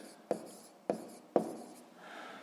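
Pen strokes write out a sixth-grade maths word problem solution on paper, three sharp taps or strokes about half a second apart, then a soft scratch, quiet and close.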